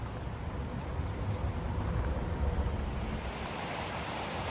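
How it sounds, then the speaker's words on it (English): Water rushing through a wooded canyon makes a steady, broad roar that stays constant and fairly loud throughout, with no voices. "just walking along this canyon with rushing water everywhere"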